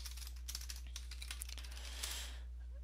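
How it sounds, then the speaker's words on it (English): Quick keystrokes tap on a computer keyboard, close and fairly faint over a low steady hum, in a short, irregular burst of typing. "you want to go ahead and just type in DirectX"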